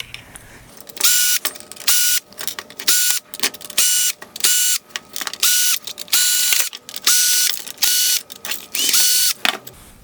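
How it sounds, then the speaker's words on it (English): Phillips head screws being backed out of a 2021-2023 Kia K5 LED headlight housing with a powered driver, giving repeated short bursts of whirring and ratcheting, close and fairly loud, with brief pauses between each burst. "I will remove the remaining Phillips head screws holding on the light bar and LED module."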